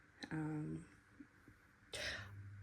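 A short throat clearing followed by a brief cough-like burst, with quiet pauses and a low hum between them.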